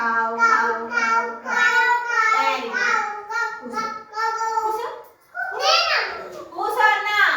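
Children in a classroom-style group imitate a crow's caw with repeated voiced 'kaw' calls, several in a row in a steady rhythm, loud and close.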